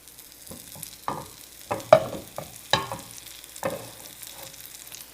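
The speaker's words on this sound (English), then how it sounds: "remember that sizzle sound is the sound you know that the oil's at the right temperature" Chicken for chicken parmesan cooks in hot oil. Irregular crackles and pops of frying sound close up over a soft sizzle, with sharper spits at uneven intervals and no talking.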